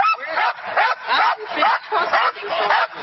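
A dog barks and yips in a rapid, loud series of about eight bursts during a police roadside stop, the close barks coming in a steady rhythm with a voice over them.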